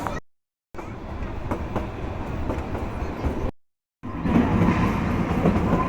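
The Kalka–Shimla toy train rolls along in a steady rumbling clatter heard from inside, broken by two brief silent gaps, with faint voices in the background.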